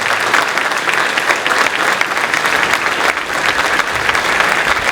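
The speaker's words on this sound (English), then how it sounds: "Let's give another round of applause for our amazing percussionist, Hayden, Laurel, Nolan, Steve Norman," Enthusiastic applause from a high school chorus concert audience, a dense, steady clapping that fills the whole stretch at close range, with no voices over it.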